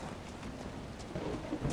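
Thunderstorm ambience in the video game Dragon Age: Inquisition, a steady wash of rain with a low rumble swelling near the end, continuous and moderately loud.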